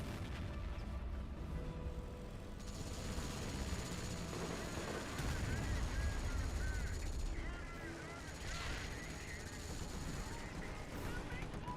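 Video game strafing run with sustained, fairly distant gunfire and rumbling impacts under an engine-like drone. A steady whine runs through the middle, a deeper heavy blast lands midway, and there is no clear talk.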